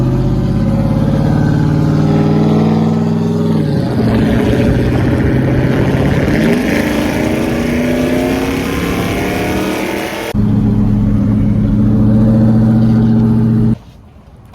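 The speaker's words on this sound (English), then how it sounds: "You hear the drone more outside on the passenger side, so it did get a little more quiet inside, but outside it got way more louder." Single cab truck with a newly fitted exhaust, heard from outside as a loud, steady low engine drone that dips and shifts pitch briefly mid-way, then settles back and cuts off near the end.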